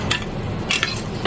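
Korean rice cake being mixed in a pan, with a few quick metallic scrapes and clinks of a utensil against the pan, close and fairly light, with no talking.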